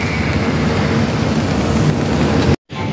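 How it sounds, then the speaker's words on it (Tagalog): Loud, steady rain pours down outside in a continuous broadband hiss, with a brief dropout near the end before the rushing sound resumes. "umuulan, oh"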